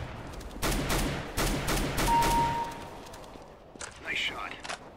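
Bursts of CS:GO gunfire in a match, several loud rapid volleys crackling one after another, then a quieter stretch with a short burst and a brief voice near the end.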